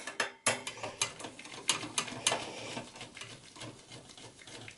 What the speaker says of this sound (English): a screwdriver, Phillips screwdriver, like an extended one, like a longer one, because otherwise you would not be able to remove the heatsink